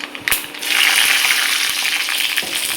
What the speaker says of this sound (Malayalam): വെളിച്ചെണ്ണ ചൂടായിട്ടുണ്ട്. അതിലേക്ക് നമുക്ക് കടുക് ഇട്ട് കൊടുക്കാം.